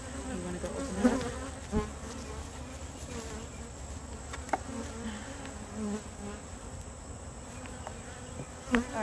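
Honey bees buzz steadily in an opened, queenless hive, a close, dense, continuous drone with a few brief louder passes and small handling knocks.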